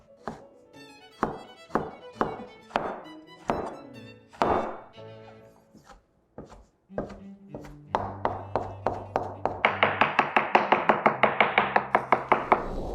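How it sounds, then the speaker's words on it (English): A heavy cleaver chopping fish thunks against a cutting board, first in slow separate chops, then speeding into quick, rhythmic chopping close by. "So today, I'm going with the cleaver."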